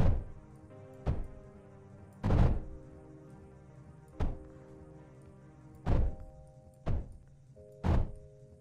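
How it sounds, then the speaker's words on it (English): Turrets firing in the tower defence game Mindustry: seven separate thumping shots at uneven intervals, each a short heavy thud over a quiet tonal hum. "see if we can perhaps enable some of these turrets to fire"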